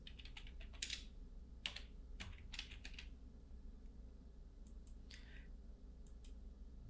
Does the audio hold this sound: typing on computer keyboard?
yes